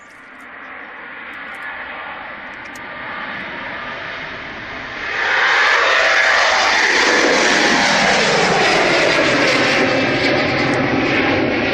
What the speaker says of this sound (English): Air France Embraer 170